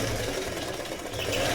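A Pico embroidery machine stitches cloth held in a frame, giving a continuous close mechanical whirring rattle at a steady rhythm.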